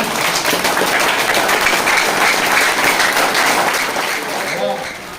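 A crowd applauds farmers at an indoor business meeting with loud, sustained clapping from many hands. The clapping stays dense and even, then begins to thin toward the end.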